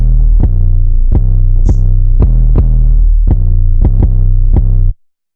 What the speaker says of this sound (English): So I added a second 808,